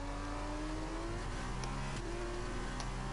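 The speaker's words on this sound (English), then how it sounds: "So penultimate lap of the race, Shabby makes the move on Ticked before the braking zone" F2 race cars from the video game F2 2021 drone continuously at high revs on the Russia circuit, a dense, steady engine whine with shifting pitch throughout.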